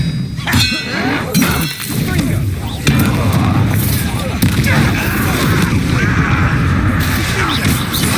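Spell combat in the Hogwarts Legacy video game, with a Disarming Charm cast amid a dense, loud mix of crackling magical blasts, clangs and explosive impacts that runs continuously throughout.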